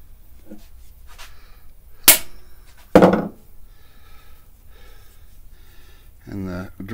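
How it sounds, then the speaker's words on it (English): Two sharp, separate hammer taps on a Subaru EJ25 wrist pin service plate ring out about a second apart, with quiet talk before and after. "Give it a firm tap with a substantial hammer."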